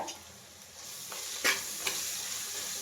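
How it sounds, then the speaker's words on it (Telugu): Bitter gourd pieces fry in a pan with a close, continuous sizzling hiss, broken by a couple of sharp stirring scrapes near the middle. "కాకరకాయలు అయితే ఫ్రై అయిపోయాయి"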